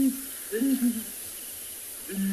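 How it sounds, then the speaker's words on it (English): Two birds trade low, hooting calls back and forth, answering each other over a steady hiss of insects in open air. "you can actually hear it from the duet. It's only two of the birds calling."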